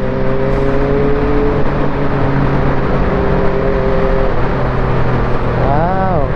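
Road and engine drone heard while riding a Honda CB400 motorcycle in traffic, with steady tonal engine hum, wind rush, and a rising-falling tone near the end, loud and continuous throughout.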